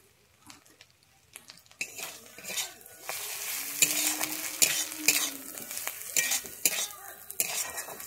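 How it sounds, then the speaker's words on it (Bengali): Coriander, red chilli and Kashmiri chilli powders fry with ginger and garlic in a pan for egg curry, a quiet start giving way to steady sizzling with repeated scrapes and clinks of a stirring spoon. "দিয়ে আমি আবারও ভালোভাবে ভেজে নিচ্ছি"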